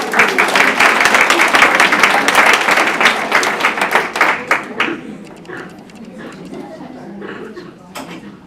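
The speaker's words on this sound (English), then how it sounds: "Hey, clap, guys." An audience claps for a volunteer at a ministry training session, with steady dense applause that thins into scattered claps and murmuring as it fades.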